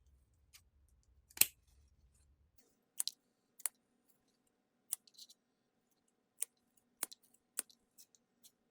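Scissors trimming ribbon for a wreath, a series of crisp, close snips spaced irregularly against a quiet background.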